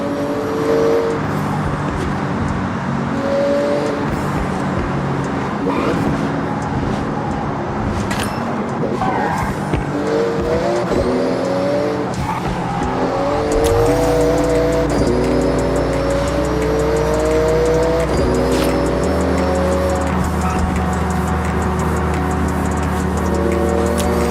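A Porsche races through a speed zone in a video game, its engine roaring continuously with rising and falling gear changes, tire squeals and skids, and a deeper rumble taking over midway, loud and sustained throughout.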